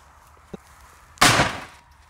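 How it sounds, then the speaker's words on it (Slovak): A 1-gram pink Angry Bulldog firecracker goes off inside a washing machine with a single loud, close blast that rings briefly and fades, preceded by a small click. "Takže máme tu petardu Angry Bulldog, takáto pekná ružová petarda, ktorá má 1 gram."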